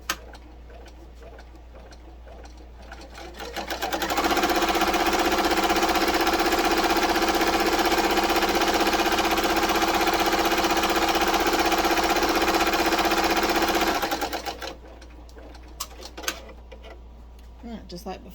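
A sewing machine stitching down a fabric pillow piece runs in one steady, loud, continuous burst of about ten seconds, framed by quieter handling clicks before and after.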